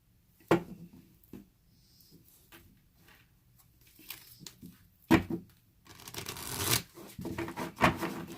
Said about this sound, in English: I need to pull more cards than I intended.